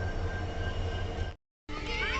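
The Kazipet–Dadar Express special rolls into Karimnagar railway station on its first day, a steady loud rumble of wheels with faint squealing, briefly cut off by a dropout before resuming.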